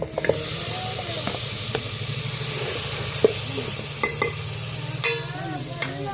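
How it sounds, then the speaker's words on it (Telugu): Chicken goes into a pan of well-fried grated onion for chicken sherva, bringing a steady close sizzle and hiss with occasional spoon clinks and scrapes as it is stirred. "ఉల్లిపాయ తురుము అయితే బాగా ఫ్రై అయింది కదా చికెన్ వేసేస్తున్నాం"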